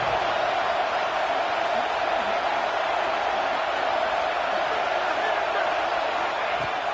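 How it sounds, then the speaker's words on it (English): A packed stadium crowd at a Florida vs LSU college football game roars for the Gators on third down, a loud, steady, unbroken wall of cheering that holds for the full seven seconds. "This crowd unhinged, trying to make sure the Gators don't back down on 3rd down"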